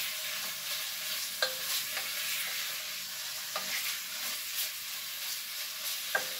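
Potatoes coated in oil frying in a pot for old-timey potato soup, a constant soft sizzling hiss with a few faint utensil clicks and scrapes, close but fairly quiet with no talk.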